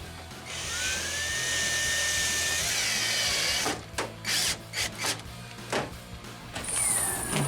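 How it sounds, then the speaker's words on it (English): A power drill runs while a rear spoiler is fitted to a 2010-2014 Ford Mustang, a close, loud whine held for several seconds, then a series of short bursts and a final rising spin. "And move to the drill."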